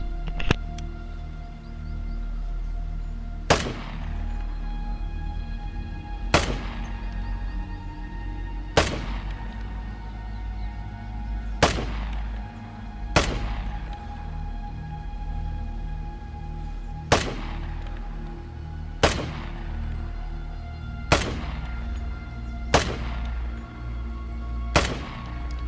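Submachine gun fire in Vigor, heard as nine sharp, evenly spaced single shots about every two to three seconds, close and loud over a steady hum, with no talking.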